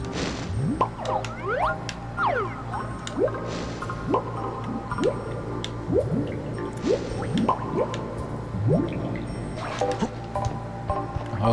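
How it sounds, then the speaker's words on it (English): A character dives underwater in the video game Donkey Kong 64, heard as a steady run of squishy, dripping liquid blips and bubbly splashes, moderately quiet and rhythmic throughout. "It was a little difficult getting underwater like Chunky, but we did it"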